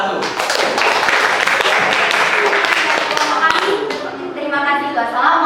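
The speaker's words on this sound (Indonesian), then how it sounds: "Tepuk tangan untuk kelompok 1." Classroom applause for a student group after a lesson, a dense spread of hand claps with light taps and children's voices mixed in, steady and fairly loud before fading slightly near the end.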